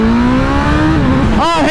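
A BMW M1000RR motorcycle accelerating hard, a loud close engine whine rising steadily in pitch, then a quick burst of shifting revs as it keeps pulling.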